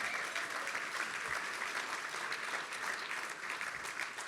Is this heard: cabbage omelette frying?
no